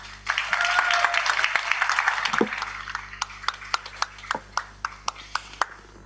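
An audience applauds a panel at a youth agrifood policy event, a dense burst of clapping that thins out after a couple of seconds into scattered, isolated claps fading toward the end.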